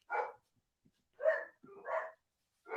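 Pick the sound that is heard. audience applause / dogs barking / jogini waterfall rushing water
dogs barking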